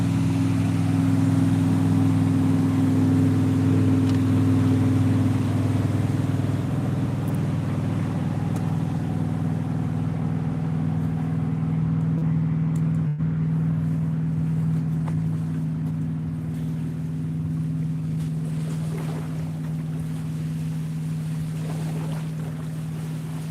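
A motorboat towing a wakeboarder drones steadily on open water during a day of bobber fishing, a continuous low engine hum that slowly fades as it moves off, with gusts of wind noise and no talk.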